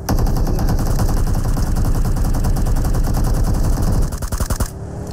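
Rapid automatic gunfire in a video game, loud and close in a long continuous burst of fast regular shots that breaks into a few separate shots near the end.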